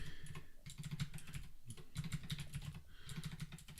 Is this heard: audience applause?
no